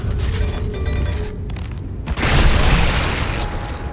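In Gears of War Reloaded, a grenade detonates to seal a Locust emergence hole, giving a heavy booming blast with a broad rumbling tail after a short lull amid gunfire and mechanical game noise.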